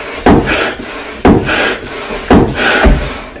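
Hand pump for an inflatable kayak being worked in four strong, evenly spaced strokes, each a loud rasping whoosh with a thump at its start, close by and with no talk.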